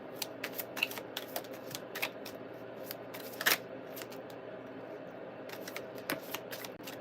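Tarot cards are shuffled by hand in quick, crisp riffling bursts with short pauses between them, close and fairly quiet, and no speech.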